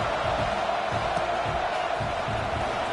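A college football stadium crowd at Texas A&M versus North Carolina murmurs and roars as a steady, dense wash of distant voices around kickoff, with low rumbling underneath.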